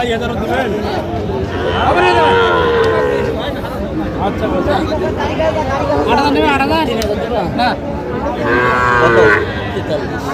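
Cattle moo loudly several times amid a busy crowd of people talking and chattering at close range at a livestock market in Jamalpur selling young bulls and heifer calves.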